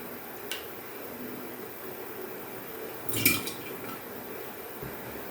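Glass jars of homemade serviceberry jam are set down in a quiet kitchen. A single short glassy clink stands out against a soft background hiss.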